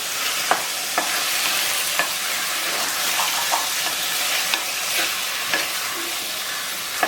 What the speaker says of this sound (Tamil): இது ஒரு ரெண்டு நிமிஷம் நல்லா வதங்கட்டும்